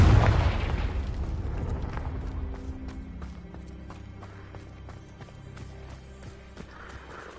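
A Confringo blasting spell detonates in Hogwarts Legacy: a loud, heavy boom at the start that rolls off into a long rumbling decay, followed by a steady run of soft rhythmic taps.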